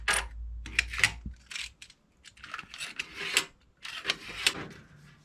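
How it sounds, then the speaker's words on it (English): Clear PVC sheet being trimmed while building a Seplos Mason 6.9 battery kit: a series of sharp, close snips and plastic crackles in uneven bursts, with short quiet gaps between cuts. "So I'm cutting off this excess material here."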